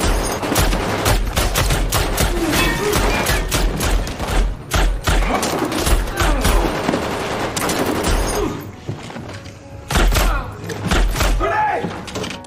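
Gunfire in a war film about special forces fighting ISIS terrorists: dense, loud volleys of shots and impacts run almost continuously, mixed with thuds and bangs, with no clear speech.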